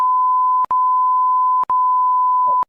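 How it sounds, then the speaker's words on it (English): A loud, steady electronic tone runs continuously, broken by two brief gaps, then cuts off abruptly at the end, a classic censor bleep. "where's the beep button? I'm gonna press it"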